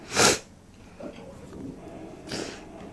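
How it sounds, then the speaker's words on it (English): Two sharp, breathy sneezes, the first louder and near, the second softer after a pause, with quiet breathing and faint room noise between. "I was sneezing my head off"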